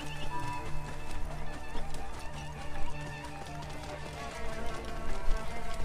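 Hooves clop rhythmically in Assassin's Creed Origins on Xbox One as a horse runs, a steady galloping beat mixed with game music and ambient sound.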